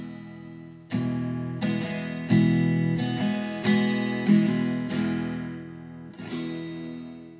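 Guitar strings strummed with the fingertips, several separate chords ringing out one after another with short gaps, clear and close.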